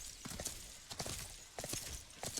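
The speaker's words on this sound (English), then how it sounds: "Let's just use the horse and avoid conflict." Horse hooves clip-clopping in the video game Sacred 2, a quiet, steady trotting rhythm of sharp hoof strikes repeating about every half second with no talk.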